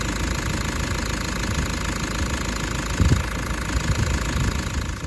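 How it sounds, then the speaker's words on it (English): A Toyota Prado with a newly replaced engine runs at idle, a steady, close mechanical hum with a faint knocking texture and a brief louder bump partway through. "The engine was running beautiful. I'll just show you that."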